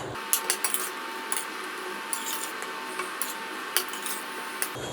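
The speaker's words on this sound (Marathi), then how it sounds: "आता सर्वात शेवटी आपण ह्याच्यामध्ये घालूयात कांद्याची पात मिक्स करून घेऊयात" Spring onion greens are stirred into idli chilli, with scattered light clinks and scrapes of a spoon against the pan over a steady low kitchen hiss.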